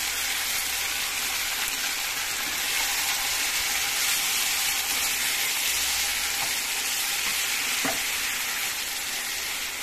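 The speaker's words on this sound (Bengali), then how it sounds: "পেঁয়াজগুলো 2-3 মিনিট ভেজে নিয়ে আমি এবার ম্যারিনেট করা চিকেনগুলো অ্যাড করে দিলাম" Marinated chicken fries with onions in a pan, giving a steady, even sizzle and hiss with a faint stir or scrape now and then, close and alone.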